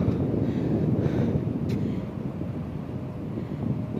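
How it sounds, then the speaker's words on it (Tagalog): Strong wind roars and buffets against the microphone in a steady, loud rumble, with no speech. "Grabe ang lakas ng hangin."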